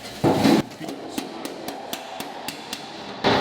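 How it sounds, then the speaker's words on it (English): Sharp metallic hammer taps ring out at a steady pace, about ten strikes, between louder scraping bursts at the start and end, from hammer-and-dolly work on a welded Ford Bronco quarter panel. "I've basically just been hammer and dollying this"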